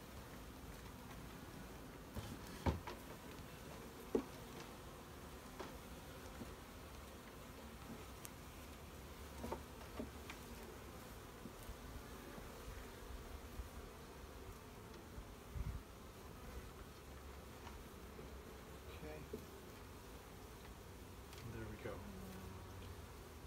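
Honeybees hum and buzz around a newly installed hive, a steady low drone with a few louder close passes and faint handling knocks.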